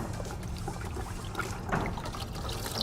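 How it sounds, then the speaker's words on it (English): A wash towel is rinsed in a bucket of waterless wash solution while detailing car wheels. Soft trickling and sloshing water runs continuously and fairly quietly, close by, over a low background hum. "Take it out, rinse it out."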